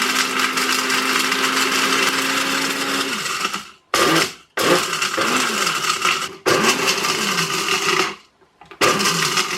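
A loud blender grinds cinnamon sticks in steady bursts, whirring and stopping briefly several times before starting again, with hard pieces rattling against the blades.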